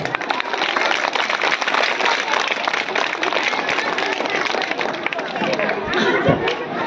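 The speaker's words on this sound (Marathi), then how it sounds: "तुमच्या सगळी स्पर्धा घेतलेल्या सगळ्या शिक्षकांसाठी एकदा टाळ्या वाजवा" An audience at a school event applauds the teachers who ran the competition, steady dense clapping mixed with crowd chatter that holds for several seconds.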